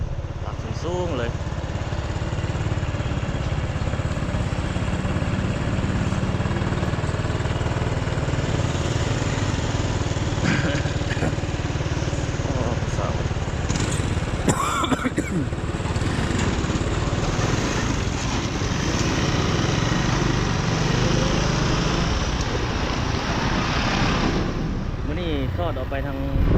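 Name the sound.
pile drilling machine at a construction site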